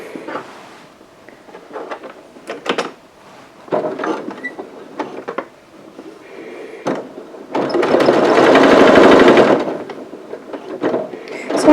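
A home sewing machine stitches strips on a string quilt in short separate bursts, then a longer steady run, all close and fairly loud.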